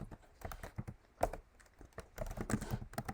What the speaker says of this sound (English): Okay, so I'll type in hash include stdio.h